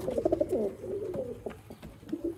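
Pigeons from a breeding setup coo softly and repeatedly close by, with low throaty calls overlapping in an uneven rhythm and only faint background noise.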